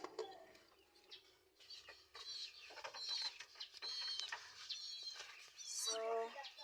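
Pigeons feeding in a loft in the morning, with soft pecking, fluttering and scattered cooing and chirps close by, quiet overall, and a brief voice near the end.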